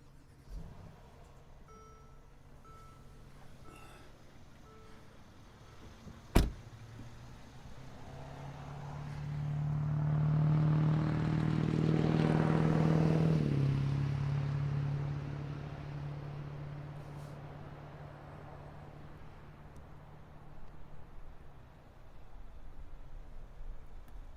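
Mercedes GL 550 twin turbo SUV engine cranks and catches after a sharp click, swelling into a loud rev that settles back to a steady low idle, heard alone with no talking.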